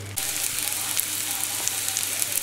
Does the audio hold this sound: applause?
no